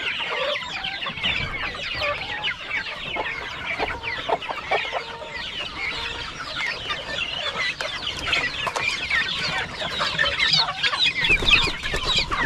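A flock of guinea fowl and turkeys clucks and chatters continuously and fairly loudly in a farm pen, with many overlapping calls and no speech.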